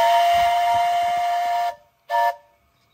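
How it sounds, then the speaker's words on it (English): A 7 1/4 inch gauge Duke of Gloucester steam locomotive on its first test steam sounds its whistle: one long, loud blast, a brief pause, then a short second toot, with no voices. "just some more footage of the loco running on its first test steam"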